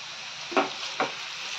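Okra pieces sizzling in hot oil in a pan, with two quick scrapes of a spoon stirring them over a steady, close frying hiss.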